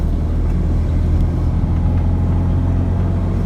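A Fiat 126p being driven after brake work, its small engine giving a steady, close, continuous low rumble with no pauses or talk.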